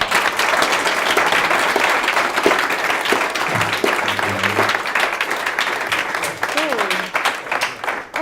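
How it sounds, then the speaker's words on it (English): Loud, dense applause from an audience at a talk fills the whole stretch, steady clapping with some voices and a brief whoop mixed in near the end. "a huge big round of applause"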